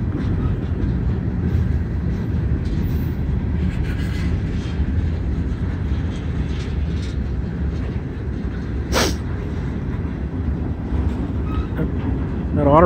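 A CSX southbound Q143 intermodal freight train, led by locomotives CSX 1 "Spirit of West Virginia" and 8903, rolls past close by with a continuous heavy low rumble and steady rail noise, plus a brief sharp squeal midway.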